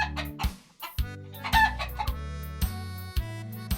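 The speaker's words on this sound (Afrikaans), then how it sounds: "Hy loop verby die hen en haar kuikens." A hen clucks among her chicks, with repeated close, loud clucks and rooster-like calls in a steady rhythm and no talking.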